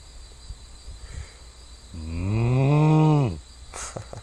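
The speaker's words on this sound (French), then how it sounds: "Puis là j'étais allé filmer les vaches." A single long, low cow moo rises and falls, with quieter farmyard sounds and faint insects around it, recorded in Mexico.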